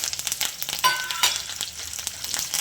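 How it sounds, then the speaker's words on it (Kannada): Curry leaves and garlic fry in a pan over low heat for garlic chitranna, giving a steady close crackling sizzle with a few sharper pops and spatters partway through. "ಈಗ ನೋಡಿ ಇದಾಕೊಂಡ್ಬಿಡೋಣ ಕರಿಬೇವು ಬೆಳ್ಳುಳ್ಳಿ"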